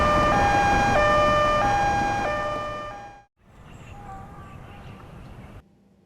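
An ambulance siren in a Chinese crime drama sounds loud and near as a stepped, wailing two-tone cycle. After about three seconds it cuts off abruptly, and a quieter, muffled room scene follows.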